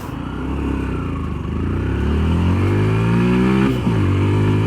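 A 2024 Yamaha FZS V4 150 cc motorcycle launches hard out of a U-turn, its engine climbing steadily in pitch as it accelerates, loud and close with no voices over it.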